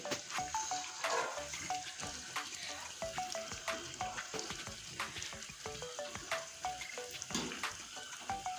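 Milk cream sizzles steadily in a pan as ghee separates out, a constant bubbling fry with soft popping and intermittent stirring, heard close up and quiet, with no talking.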